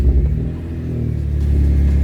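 A Toyota Supra that has sat for eight months fires up with a heavy low rumble, a brief dip and then a steady idle hum, close and loud.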